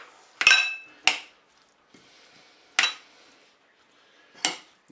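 Potato and tuna salad with mayonnaise being stirred in a bowl, heard as four separate sharp clinks of a utensil striking the dish with quiet gaps between.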